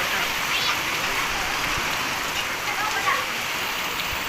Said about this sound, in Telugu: మధ్యలో ఫుల్ వర్షం కొట్టింది